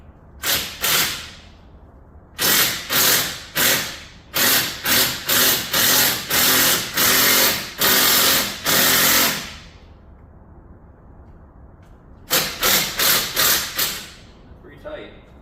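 Split clamshell puller working a CV axle loose on a 2019 Ram 1500 Classic, driver's side: a long run of sharp, loud, evenly spaced metallic strikes in bursts, pausing and then resuming, close and dry.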